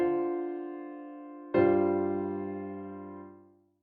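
A jazz sus chord on piano, a II chord voiced over the V in the bass, rings out and sustains, then a second struck chord sounds brighter and fuller before decaying away; clean and alone.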